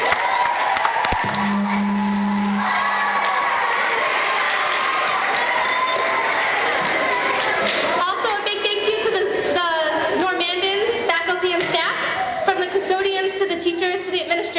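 Audience at a middle school event clapping and cheering loudly for team leaders, with a brief loud tone near the start and whoops and shouts rising over sustained applause toward the end.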